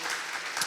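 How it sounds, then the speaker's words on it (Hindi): Applause from a church congregation at a Sunday Hindi service, welcoming guests: a short, steady burst of many hands clapping together, filling the room at moderate loudness with no voices over it. "ताली बजा के उनका स्वागत करें।"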